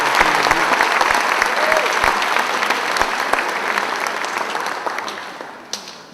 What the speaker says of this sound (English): If we could please give them a nice round of applause for their assistance tonight.